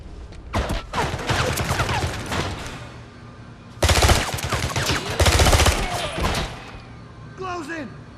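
Rapid automatic gunfire bursts and explosive impacts in the 007 Blood Stone combat level set in Siberia on PS3, loud and sustained in two heavy waves with a pause between, mixed with game voices shouting commands.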